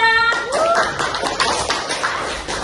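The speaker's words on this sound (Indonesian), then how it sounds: "beri tepuk tangan untuk kelompok 2" Children in a classroom clap for a group of classmates, a quick burst of close, uneven hand claps that starts just after a short whistle-like tone and fades out over about two seconds.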